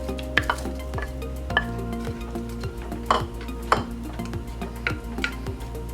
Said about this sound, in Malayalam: ഇനി ഇതിലേക്ക് നമുക്ക് മാങ്ങ ഇടാം.